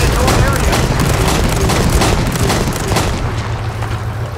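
Continuous loud rumbling barrage of explosions and artillery in the war video game World War 3, dense and sustained throughout with deep low booms, under a steady wash of battle noise.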